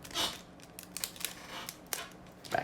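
Scissors snip through the foil of a Cardfight Vanguard trading card booster pack, a few sharp crisp cuts and crinkles spread over a couple of seconds, close and fairly quiet.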